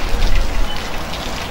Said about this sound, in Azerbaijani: Hazırda rayon ərazisində leysan xarakterli yağış davam edir.